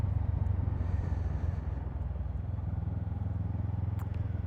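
A small Honda 500 motorcycle engine idles on a Thai road, a steady low throbbing pulse running continuously at moderate volume with no talk.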